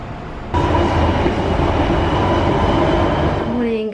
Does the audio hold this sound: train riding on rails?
yes